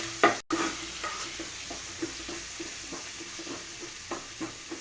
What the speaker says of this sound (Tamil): ஆனியன் எல்லாம் ரொம்ப ஃப்ரை ஆகலாம்.